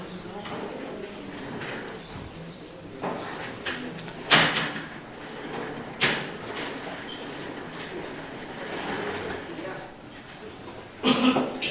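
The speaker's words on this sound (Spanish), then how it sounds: "Movemos las sillas así para los lados." Chairs being shifted aside in a room, with several thuds and scrapes spread across the stretch over steady crowd murmur and talking.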